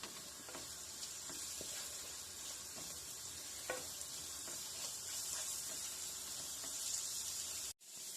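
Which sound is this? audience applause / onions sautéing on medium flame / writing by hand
onions sautéing on medium flame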